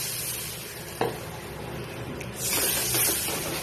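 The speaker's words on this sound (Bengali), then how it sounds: "মশলা কষা হয়ে গেছে, এবার এর মধ্যে একটু জল দিয়ে দিলাম।" Water poured into fried spices for a pomfret fish curry, a sudden hiss and bubbling surge that rises partway through, following a quieter steady sizzle and a single clink.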